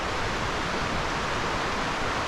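A rain-swollen creek rushes and flows steadily during heavy rain, a continuous loud hiss of moving water with no voices.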